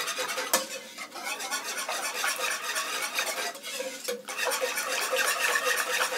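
Whisking flour into cold milk for a fat-free béchamel, a steady close scraping and clinking of a utensil against the pot that runs continuously with small bumps and knocks.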